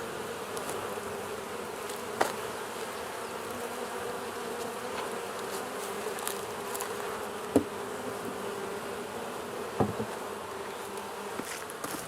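Honeybees from a small swarm settled in a bait hive hum in a steady, dense drone, with occasional louder buzzes as individual bees pass close by, and no talking.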